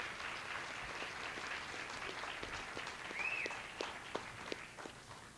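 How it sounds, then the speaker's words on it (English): Scattered applause greets spelling bee contestants at a regional competition, light uneven clapping from a modest audience, fairly faint and distant, with a few sharper claps standing out before it thins toward the end. "let's give them a round of applause and congratulations for being here"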